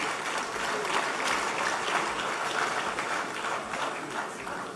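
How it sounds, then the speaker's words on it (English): Steady, dense applause from a large audience at a ceremony honouring the Asantehene as a pillar of peace, filling the room evenly without a break and with no speech over it. "Give him a big hand of applause."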